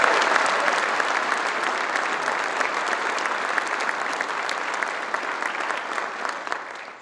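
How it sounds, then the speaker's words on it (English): An audience at a 2019 Army Hall of Honor and Hall of Fame induction ceremony claps in sustained, dense applause that stays steady for several seconds and slowly tapers at the end. "So let's join me in a round of applause for Sergeant Major of the Army, Dan Daly."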